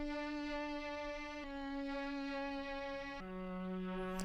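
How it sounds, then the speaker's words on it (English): Dry synth strings without effects, thin, tinny and cheap-sounding, hold long sustained chords that shift twice to new pitches, playing steadily and alone. "Then for the strings with no effects"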